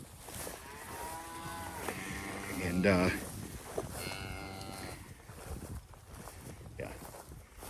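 Cows and a young calf low on a farm, with a few drawn-out moos of varying pitch, one louder call in the middle, and someone talking quietly between them.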